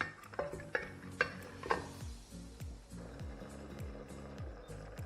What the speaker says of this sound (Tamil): மிளகாத்தூள் போட்டு நல்லா வதக்கிடலாம்